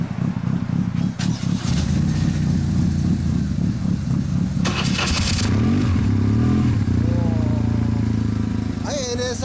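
A 1996 Honda NSR250R SE two-stroke motorcycle engine runs close by, fitted with its stock muffler, idling with a rough rattly burble and then blipping into sharp revs, with voices talking over it.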